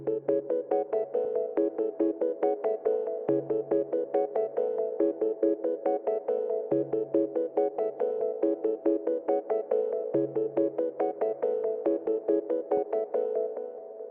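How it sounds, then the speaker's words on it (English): Jump, a synth patch from the Fragile Serum Bank by Sunboy, plays as bouncy, repetitive plucked stabs in a steady rhythm over a low sustained bass note that shifts every few bars, heard alone and clean. "So the first sound is from the Fragile Serum Bank by Sunboy."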